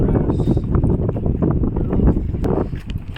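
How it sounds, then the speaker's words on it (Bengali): Steady low wind rumbling across an open microphone, with faint lapping water and small knocks in the background, on a Sundarbans river while fishing with nets. "হাওয়াও হচ্ছে হালকা।"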